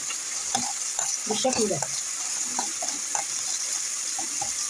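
Garlic and meat sauté in pans on two burners, a steady broadband sizzle with repeated utensil scrapes and knocks, and brief speech over it.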